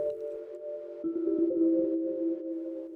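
A sustained vibraphone-like tone with ringing overtones, its brightness gradually darkening as a filter sweeps downward; new notes enter midway, no voices.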